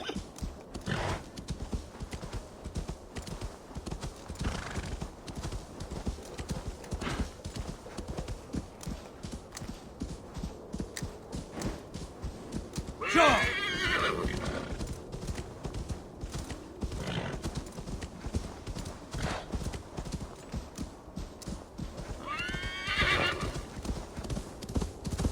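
A horse in Assassin's Creed Valhalla gallops with steady rapid clip-clop hoofbeats throughout, letting out two neighs partway through, with faint game ambience beneath.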